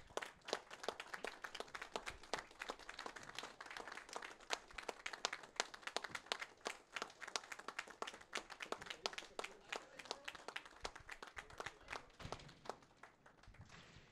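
Scattered audience clapping at a curling event, steady and fairly quiet, carrying on for the whole stretch as a team leaves the ice, with no voices over it.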